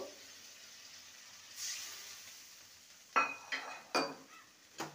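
Ground mustard, ginger, green chilli and cumin paste being mixed in a pan with a little water: faint sizzle, then four sharp scrapes and clinks of a spoon against metal, close by.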